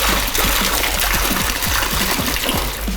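Box wine glugs out of its spout into a batch of jungle juice, a continuous splashing pour with bubbly, rhythmic gulping pulses heard up close.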